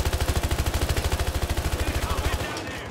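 Rapid automatic gunfire from the shooter game Battlefield Hardline, a loud close burst of evenly spaced shots lasting over two seconds before cutting off into fading echo.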